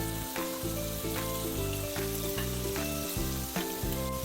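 Chicken wings for honey barbecue wings frying in hot oil make a dense, continuous sizzle and crackle, loud and close, with a steady tonal hum running underneath.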